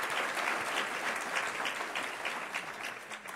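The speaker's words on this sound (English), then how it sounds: "Ms. Lawrence, you certainly deserve another round of applause." An audience claps steadily at a business luncheon, a fairly soft, even patter of many hands that carries on for a few seconds without speech.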